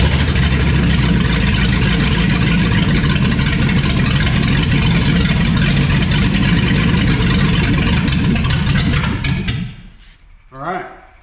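A Chevrolet C10 truck engine runs loud and steady for about nine seconds, then cuts off abruptly, leaving a brief quieter tail with a small noise.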